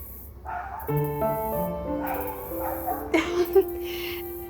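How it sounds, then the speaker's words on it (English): Several dogs bark and yip in short bursts at moderate distance, with some whimpering mixed in over a steady summer outdoor background with cicadas. "dogs are barking in the background"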